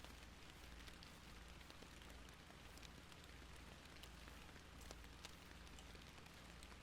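Steady, faint rainfall in the fishing game Fishing Planet, at night, patters continuously with a soft hiss and scattered drop ticks, no voices.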